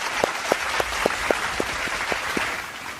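A crowd claps for a shayari recitation about Lord Ram, with brisk, evenly spaced claps standing out over a dense bed of applause throughout.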